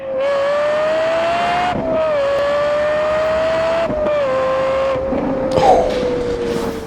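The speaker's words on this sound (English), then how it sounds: "That is the most sexiest sounding V10 that you will ever hear in your life." Lexus LFA with its 4.8 liter V10 revving hard, a loud high-pitched wail holding steady pitch with brief dips between pulls and a sharp rise near the end.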